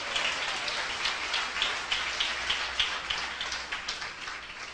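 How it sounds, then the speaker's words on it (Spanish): Congregation in a church giving a loud round of applause: dense, steady clapping from many hands, continuous and fairly close for several seconds, with no voices. "Un fuerte aplauso al Señor."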